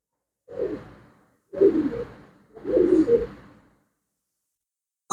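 Three soft, low pigeon coos close by, evenly spaced with quiet pauses between them.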